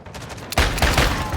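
Double pistols firing in Call of Duty online play, a rapid burst of loud, close gunshots that begins after a brief quieter lead-in and runs as a dense fusillade.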